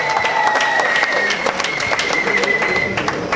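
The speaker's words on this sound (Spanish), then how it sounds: "Fuerte aplauso para ella." Dense, steady crowd applause greets a jury member being introduced at a mariachi festival in Rustenburg, continuous and fairly loud throughout, with a faint sustained tone running above it.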